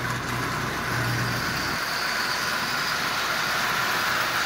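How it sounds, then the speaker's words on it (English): A Lionel 8902 DC model locomotive running on AC power through a rectifier, giving off a steady, fairly loud motor whir and hum with a faint low drone that drops out partway through. "Lionel 8902 DC locomotive running on AC."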